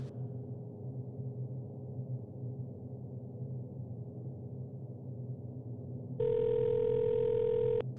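A steady electronic dial tone comes in near the end and holds for under two seconds over a low, constant background hum.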